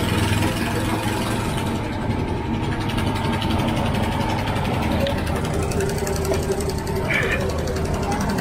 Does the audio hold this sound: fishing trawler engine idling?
yes